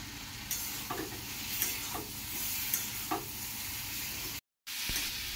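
Ground spice masala, including coriander powder and a little sugar, is sautéed in a pan for a chhanar bora curry: a continuous sizzle with regular scraping stir strokes about once a second and a brief dropout near the end.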